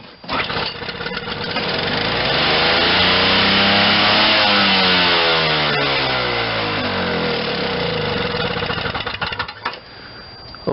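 A Toro CCR 2450 snowblower with a 5hp R-Tek engine, flooded and leaking gas, fires up and runs loud and close, its pitch rising and falling unsteadily as it surges before settling and cutting at the end.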